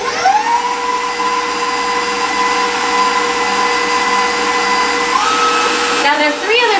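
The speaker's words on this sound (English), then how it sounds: "Let's give this one more good nice mix." An electric mixer whirs loudly and steadily through a peanut butter chocolate cheesecake pudding, its motor pitch shifting slightly as it works, before winding down near the end.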